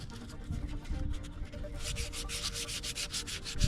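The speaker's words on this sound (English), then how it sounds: "Light sanding." Rhythmic back-and-forth scratching of light hand sanding with 320-grit paper, strokes quickening and becoming brisker partway through, with no talking.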